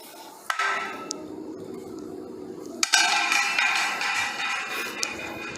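Metal clinks and knocks from loosening a bolt and removing parts on a Magic Gym full-body workout machine: a few sharp clanks stand out over a steady background rattle, close and moderately loud.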